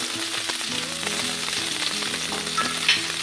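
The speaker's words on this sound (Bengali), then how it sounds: "এবার আমি একটু কালো জিরে ফোড়ন দেবো" Nigella seeds crackle into hot oil beside lightly fried rohu fish, a loud, dense sizzle with sharp popping that swells as the seeds hit the pan, heard close up with no speech.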